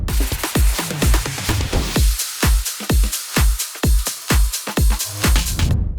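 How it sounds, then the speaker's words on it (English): Full electronic drum mix from a melodic bass house drop: punchy kicks on a steady four-on-the-floor pulse with claps, top loops and a ride cymbal layered above, loud and continuous with no voices. "So drums altogether sounds like this"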